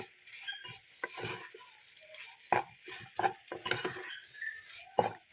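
Curry paste being stirred in a pan, with intermittent scrapes and clinks of a spoon against metal over a soft, faint sizzle, close by.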